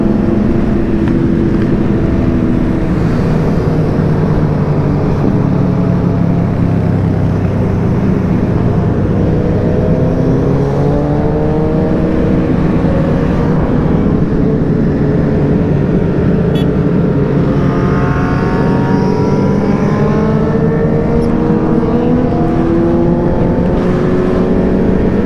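Motorcycles and Can-Am Spyder three-wheelers on a group rideout roar continuously and loudly, with engine tones rising and falling as they accelerate and shift along the road.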